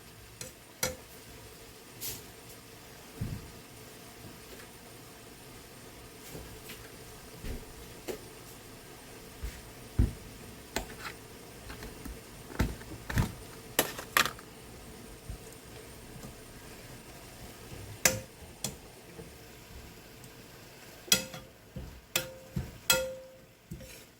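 Boiled leaves are stir-fried in a pan, with soft sizzling under repeated scrapes and clacks of a utensil against the pan, quiet and close, with no voices.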